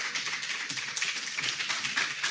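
Dense audience applause fills a conference hall at a Ghana diaspora gathering as speakers are welcomed to the stage, a continuous bright patter of many hands, steady and moderately loud, with no talk over it.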